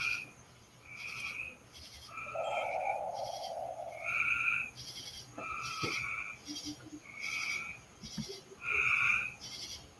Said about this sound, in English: Yep, the frogs are going to town.